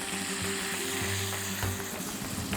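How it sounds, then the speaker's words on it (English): Dry white wine is poured into a hot pan holding an ibex heart, giving a steady, loud sizzle and hiss with faint stirring underneath and no voices. "we're going to deglaze with a little bit of a white wine"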